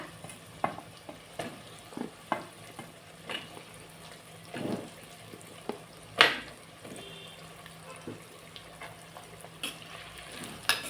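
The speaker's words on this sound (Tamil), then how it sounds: "கத்திரிக்காய் நல்லா வதங்கணும்." Eggplant frying in a pan for a dried-fish curry, with faint sizzling under scattered clinks and scrapes of stirring spread across the clip.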